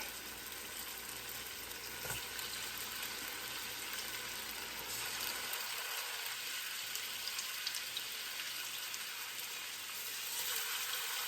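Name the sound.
diced bone-in spare ribs frying in a pan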